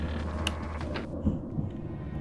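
Thunder in the Luigi's Mansion video game rumbles low and muffled, with a couple of faint creaks and clicks over a steady background drone.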